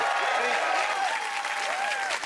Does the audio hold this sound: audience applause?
yes